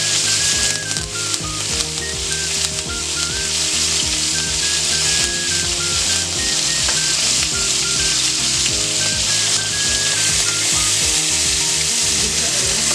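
Meat searing in a hot pan with thyme and rosemary added, a loud dense sizzle with crackling spatters and background music, held steady for the whole stretch without talk.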